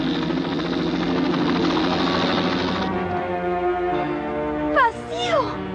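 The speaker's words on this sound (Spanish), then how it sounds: "¡El helicóptero está por llegar!" A cartoon helicopter arrives, its steady buzzing rotor drone loud and continuous, then thinning as cartoon voices break in near the end.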